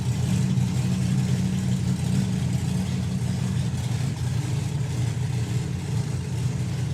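A drag racing car sits near the line at Dragstalgia 2025, its engine giving a loud, steady, low rumble that holds throughout without a clear launch surge.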